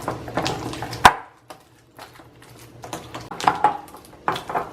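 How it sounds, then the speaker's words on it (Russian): Cake dough for a Polish Karpatka choux-pastry cake being mixed after the last egg goes in, with a spoon or whisk clinking and scraping against a bowl in short, uneven bursts, fairly close and alone. "Я добавляю последнее яйцо и перемешиваю."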